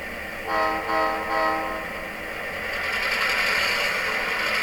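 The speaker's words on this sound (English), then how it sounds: "Now we're going to pull forward and we're going to shove the other cars forward." A model train runs forward shoving cars, with a steady mechanical whir and a sounded horn in a few short tones near the start, followed by a rising hiss of motor noise.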